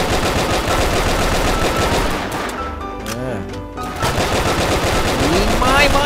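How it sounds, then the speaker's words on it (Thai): Rapid automatic gunfire from the brick-figure army shooter game Brick Force rattles in loud, dense bursts, easing briefly midway before resuming, with someone talking excitedly over the shooting. "ยังไงคนกำลังยิง คนกำลังยิงกูขึ้นที่สูงโอ้ย ยิงยิงยิง"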